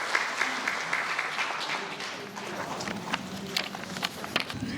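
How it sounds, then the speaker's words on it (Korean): An audience at an award ceremony marking the independence activist of the month claps steadily as an education official is welcomed to the stage, a busy, close, dense patter lasting several seconds. "여러분 큰 박수 한번 보내주시면 고맙겠습니다."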